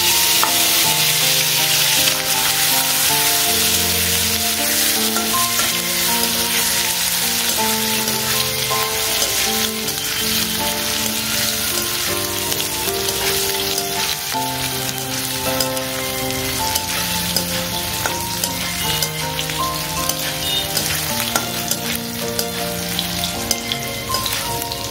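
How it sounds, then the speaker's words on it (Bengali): Chicken kebab pieces sizzle steadily in hot oil, a dense continuous crackle under a layer of background music, with no talking. "ফার্স্টে এগুলোকে আমি এখন ফ্রাই করে নিচ্ছি,"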